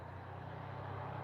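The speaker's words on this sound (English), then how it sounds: "Man, that is a loud car." A loud car rumbles past a horse training session, a steady low engine drone with no sharp peaks that stays fairly constant and slowly builds toward the end.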